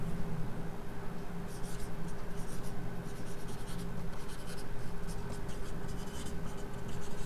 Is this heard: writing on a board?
yes